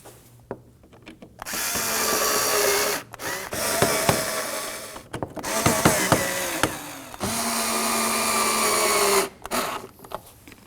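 Phillips screws are driven into a 2016-2020 Kia Sorento front grille with a power drill: several loud whirring bursts, each a second or two long with short gaps, close up and without speech.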